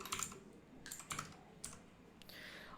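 A name typed on a computer keyboard during online account setup: close, quiet keystrokes in short bursts with brief pauses, a few firmer key hits standing out.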